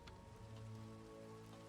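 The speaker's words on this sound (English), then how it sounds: "You'll feel more rain." Rain falls in the Minecraft video game as a steady, even hiss with soft patter, continuous and fairly quiet for the short stretch, with no voices.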